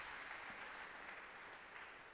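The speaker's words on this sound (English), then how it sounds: "Shall we clap for Jesus?" A church congregation claps during a worship service, a soft, continuous wash of many hands heard at a distance and fairly faint, steady throughout with no voices standing out.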